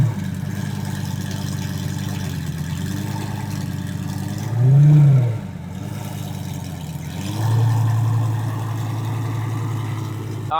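A turbocharged BMW F30 at a cars and coffee meet idles and then gives two sharp revs, the first louder and the second shorter, each rising and falling close by, with voices nearby.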